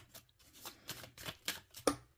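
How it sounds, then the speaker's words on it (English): A Faery Wheel Tarot deck is shuffled by hand, the cardstock producing soft, quick rustling riffles in a steady rhythm of about eight strokes, close and quiet, ending with a slightly sharper snap. "Okay, let's shuffle this up."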